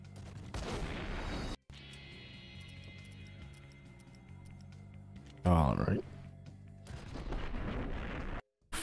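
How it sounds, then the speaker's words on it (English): Grenade launcher fire in the video game Max Payne: booming blasts and explosions come in separate loud bursts, with voices heard alongside the game sounds. "Oh, that's a grenade launcher."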